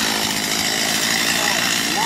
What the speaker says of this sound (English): Sometimes the chainsaw is the tool for the job.